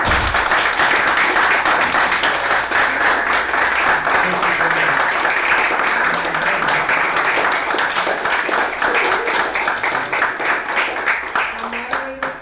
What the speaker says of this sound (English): give a round of applause to our people